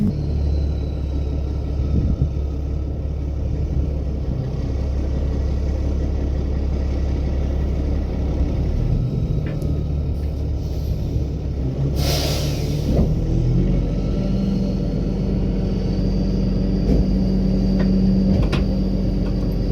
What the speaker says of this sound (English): now I should go take my truck and pull forward